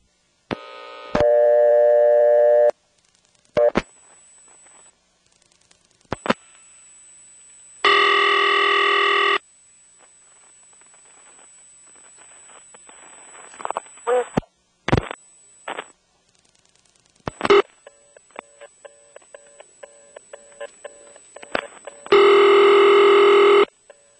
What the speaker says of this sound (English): You'll hear the ring from the intercept trunk.